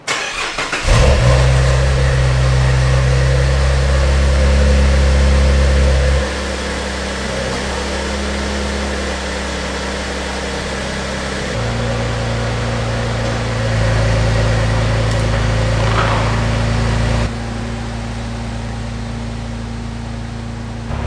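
A Cadillac ATS-V engine cranks and fires, then settles into a deep idle before revving and pulling away on a test drive, its drone stepping up and down through gear changes, loud and close.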